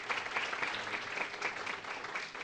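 A conference audience claps for a round of lightning-talk speakers, a fairly faint and even patter of many hands sustained throughout.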